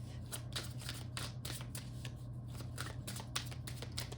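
A tarot deck is shuffled close up, a quick run of crisp riffling card flicks over a low steady hum, with no talk.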